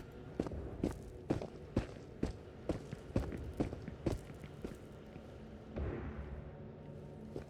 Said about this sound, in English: And I hear the scurrying footsteps.